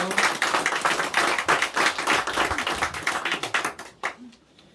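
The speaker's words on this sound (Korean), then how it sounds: "우리 하나님께 영광의 박수를 올려드리겠습니다" A congregation at a Korean Sunday morning worship service claps in praise. The hand claps come loud and close in a quick, slightly uneven rhythm, then thin out and stop near the end.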